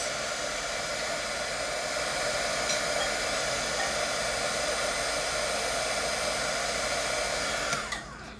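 A hair dryer runs steadily at close range for about eight seconds, drying ink on an art journal page, then cuts off sharply near the end.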